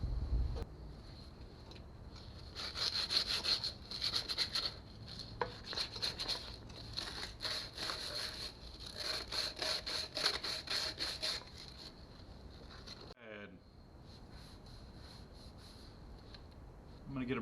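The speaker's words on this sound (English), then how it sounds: "I'm going to get a brush and clean out the inside of the yoke" A brush scrubs the inside of a drive shaft yoke from a 2006 GMC Envoy with an LS swap, giving rapid rhythmic bristle strokes in bursts, close and fairly quiet, with short pauses between.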